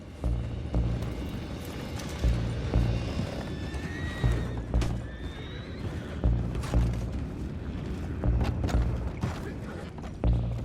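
Horses neigh and whinny repeatedly over rhythmic hoof clops and low booming rumbles, with voices speaking intermittently, in the video game Red Dead Redemption 2.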